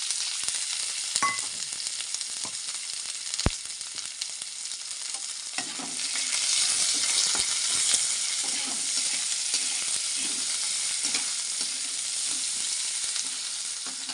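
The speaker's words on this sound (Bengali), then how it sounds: "চলো এখন তেলের মধ্যে আমি পেঁয়াজটা ছেড়ে দিই" Chopped onions frying in oil, a bright continuous sizzle, close and fairly loud, with a sharp clack early on and the crackle swelling as they settle and get stirred in the pan.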